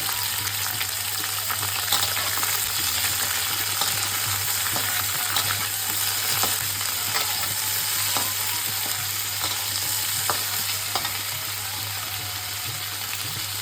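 Tomato and a spoonful of ginger paste hit a pan of frying cauliflower, giving a steady, loud sizzle with faint crackles and occasional stirring scrapes throughout.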